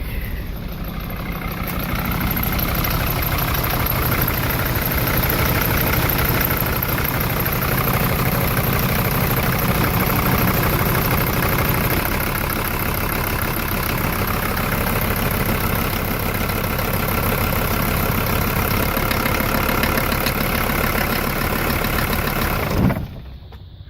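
A Mercedes W123 diesel engine, with fuel being bled and spitting from a small gap, catches and settles into a steady, loud, close idle that runs for about twenty seconds before cutting off abruptly.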